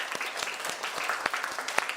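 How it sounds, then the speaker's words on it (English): Training participants at an AI certification class clap for themselves, a fairly quiet room of scattered hand claps with a few sharper individual claps standing out. "clap for yourself"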